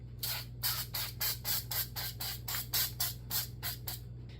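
Cooking spray sprayed into cupcake cups for keto, low-carb, gluten-free cakes, heard as a quick series of about a dozen short hissing bursts in an uneven rhythm, close and fairly soft over a low hum.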